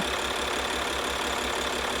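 A Maserati engine idles steadily after a flat battery, a continuous low rumble with a faint rhythmic knock, close and alone with no talk.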